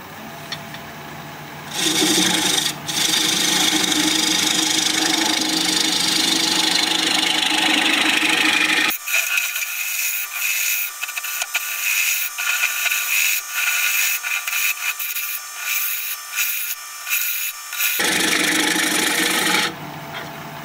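A scraper cuts across a spinning wooden pear on a wood lathe, making a steady close rasping scrape that runs almost without pause and briefly turns thinner and hissier midway before returning to full body.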